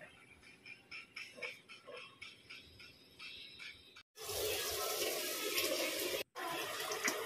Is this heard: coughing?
no